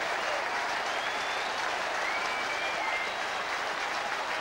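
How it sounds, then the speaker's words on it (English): A large football stadium crowd at Swindon Town versus Middlesbrough applauds steadily, a dense continuous wash of clapping from a distance, with no break across the few seconds. "Rapturous applause around the ground."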